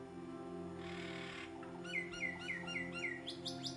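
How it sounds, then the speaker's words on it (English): Several short, clear bird chirps and whistled calls, rising and repeating in quick succession over a steady low hum, fairly distant. "the distant call of birds"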